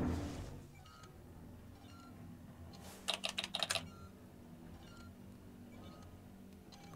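A short burst of rapid keystrokes on a computer terminal keyboard inside the video game Alien Isolation, about five quick clicks in under a second over a low ambient hum.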